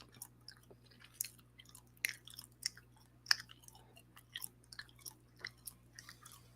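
Gum chewing close to the mic, Trident Soft Sticks, with soft wet mouth clicks and faint irregular snapping attempts in a quiet room.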